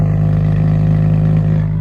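Just after a cold start, a car engine runs at a steady, even idle, a close, constant low drone with no change in pitch or level, and no other sounds over it.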